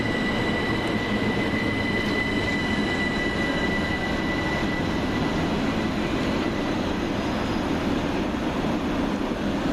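Two coupled Southern Railway Class 377 electric trains roll into Gatwick Airport station. A steady loud rumble of wheels on rails carries high squealing tones throughout.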